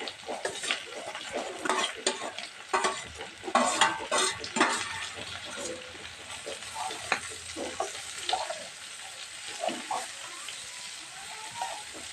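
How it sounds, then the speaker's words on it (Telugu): Onions and green chillies fry and are stirred in a pan for a prawn and gongura dish, with steady sizzling broken by repeated scraping and clinking of a utensil against the pan, close and fairly loud, with faint voices in the background. "ఇప్పుడు మనం ఉల్లిపాయలు పచ్చిమిర్చితో వేసుకోవాలి ఇందులో"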